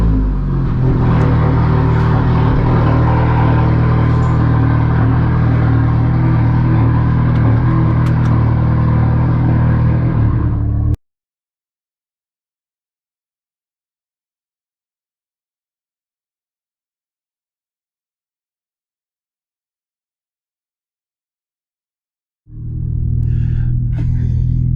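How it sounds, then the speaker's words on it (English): A car engine cold start: a loud, steady rumbling idle for about ten seconds, then silence, then the engine fires up again and settles into a deep, close idle. "Cold start."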